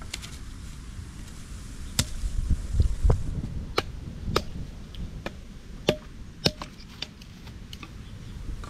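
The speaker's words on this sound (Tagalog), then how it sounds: "Ibak po ako ng panggatong." Firewood is chopped in a forest on a windy, stormy day, with about a dozen sharp, irregular strikes ringing out over a low, gusting rumble.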